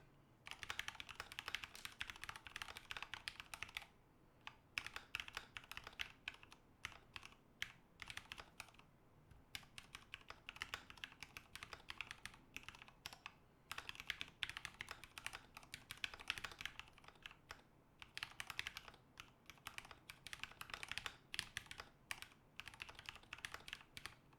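Steady typing on a KAT Alpha keyboard, a dense run of close, crisp key clacks in bursts with brief pauses, continuing alone for over twenty seconds.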